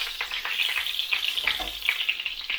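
Chicken pieces sizzle and crackle in a hot frying pan, a steady loud hiss with brief bursts as the meat is turned, no voices.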